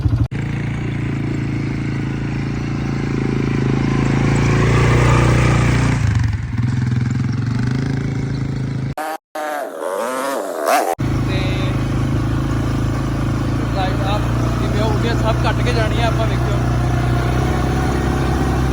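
A dune buggy engine on desert sand in Dubai drones loudly and continuously close by, rising and falling with revs, with a brief break in the middle and people talking over it.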